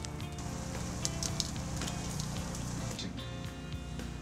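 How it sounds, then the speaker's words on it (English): Continuous crackling sizzle of fritters frying in hot palm oil, steady and close, with occasional sharper pops. "we're going to keep frying up these fritters"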